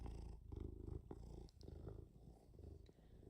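Close, low rumbling purr from a cat, continuous and throbbing gently with its breathing, heard alone.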